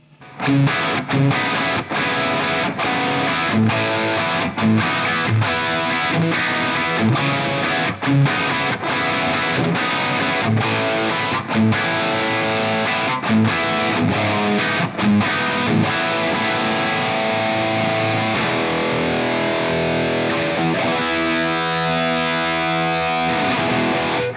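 Distorted high-gain electric guitar through a Soldano X88-IR plays a steady stream of chugging chords and notes with a classic 80s tone, loud and continuous, with no voice.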